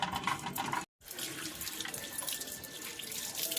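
Tap water runs steadily into a sink as a whole hilsa fish is washed under it, a dense splashing hiss. There is one brief break near the start.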